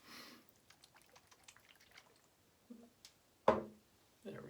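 Alcohol-based aftershave splash being poured into a cupped hand during a shave, heard as a series of soft drips and small trickles followed by a couple of louder splashy pours, close by.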